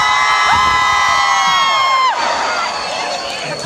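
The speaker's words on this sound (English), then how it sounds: "How many people are just screaming because they're out of their fucking mind?" A concert crowd at a 30 Seconds to Mars show in Dublin screams and cheers, a loud, sustained wall of high voices that swells and then eases slightly.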